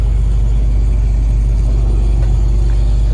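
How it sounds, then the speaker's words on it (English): Steady loud low rumble of a service truck's air compressor driven by a Duramax 440C 18-horsepower engine, running continuously and evenly with no voices over it. "I'm gonna hop up in here and start up the air compressor for you."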